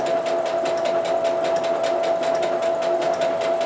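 A sewing machine runs at speed, controlled by a foot pedal, sewing fabric for a costume, a fast, even, close mechanical whir and tapping that stays steady for a few seconds with no talk.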